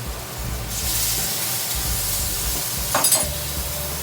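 Korean seafood instant noodles being stir-fried in a pan, a steady close sizzle and hiss with a brief scrape of stirring near the end, no voices.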